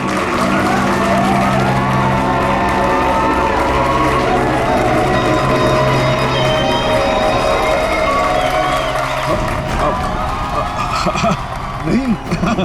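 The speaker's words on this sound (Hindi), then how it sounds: "तालियां!" A studio audience at a Hindi TV crime drama set claps and cheers loudly and continuously, a dense crowd roar that drops off near the end with scattered shouts.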